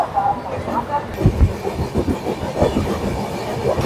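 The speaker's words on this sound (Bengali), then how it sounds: "ট্রেন ছাড়ার সাথে সাথে কিন্তু ট্রেন বেশ ভালো জোরে চলছে" A passenger train from Kolkata to Deoghar picks up speed, its rolling rumble and rhythmic clickety-clack of wheels over rail joints steady and close inside a push-back-seat coach, with faint voices in the background.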